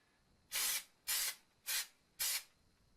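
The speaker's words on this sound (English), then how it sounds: "So okay, so we'll just spray this." Four short, even bursts of hissing spray, close and loud with brief gaps between them, as spray is applied to a part for a wooden marionette.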